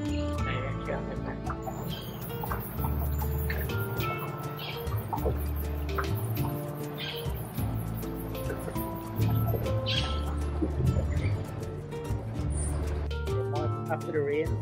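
Parrots calling along the Pomeroon River in Guyana: a busy stream of sharp chirps and squawks over a low rumbling background, continuing throughout.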